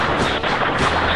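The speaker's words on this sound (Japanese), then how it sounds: "ショットガンだよ、これ。" A heavy shotgun blast in the co-op shooter TerraWars, a loud, dense boom that fills the whole short moment with rumbling noise.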